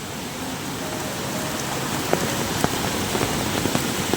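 A flooded river swollen by heavy monsoon rain in a Konkan village surges past a submerged bridge, a loud, constant broadband roar of rushing water with scattered splashes and patters.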